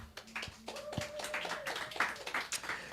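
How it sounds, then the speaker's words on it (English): Audience applause at an evening book presentation of poetry at Sankofa Videos and Books, a faint scattered patter of clapping hands in a small room, with some sharper individual claps. "Round of applause for yourselves."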